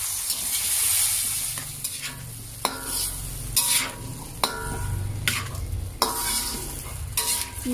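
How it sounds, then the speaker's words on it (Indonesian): Shrimp and blended spice paste sizzle in a pan for an Aceh-style stir-fry while a utensil stirs in repeated scraping strokes against the pan, close and clear over a constant frying hiss. "Aduk-aduk merata agar semuanya tercampur."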